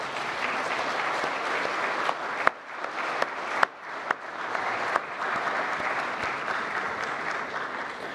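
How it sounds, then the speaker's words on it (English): Sustained, steady applause from a conference audience honors the King of Lesotho, with a broad even roar of clapping and a few sharper claps punctuating it. "Maybe we could give one more round of applause for His Majesty."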